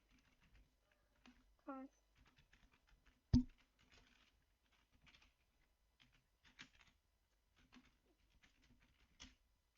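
Light, sparse keystrokes on a computer keyboard as a password is entered, quiet and close, with scattered taps, one sharper knock and faint background murmur.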